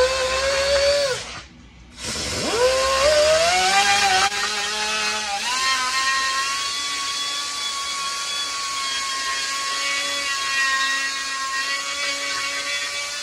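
A high-pitched rotary power tool files a V-groove into the cracked plastic rim of a vintage 1968 Pontiac Firebird steering wheel, whining steadily with shifting pitch, briefly stopping and restarting early on, loud and close with no talk.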